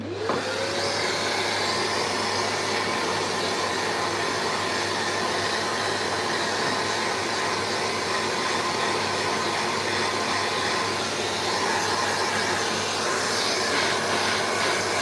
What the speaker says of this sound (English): So I'm going to go ahead down hoover this